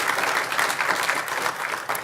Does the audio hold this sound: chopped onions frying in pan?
no